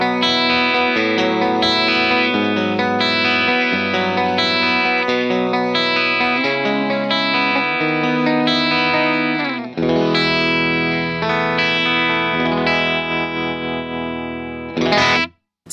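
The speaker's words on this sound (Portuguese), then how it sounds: "Esse é um modelo do clássico Vox AC30, outro som maravilhoso e imortalizado dentro do universo dos amplificadores valvulados vintage." Electric guitar played through the Vox AC30 amp model of a Strymon Iridium pedal rings out in sustained, lightly distorted chords with a chorus-like shimmer, continuous and loud before stopping abruptly at the end.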